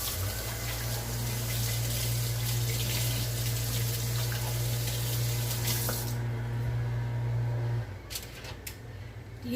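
A kitchen tap runs steadily into a sink during hand washing, a loud close rush of water with a low hum, then cuts off near the end, leaving faint handling sounds.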